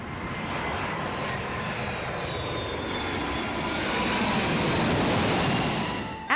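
A fixed-wing airplane's engines give a continuous, loud, broadband drone that swells slightly toward the end, heard alone without voices.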